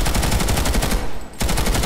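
A TR light machine gun fires in Planetside 2, a loud, fast automatic burst of close shots that breaks off briefly and then starts again.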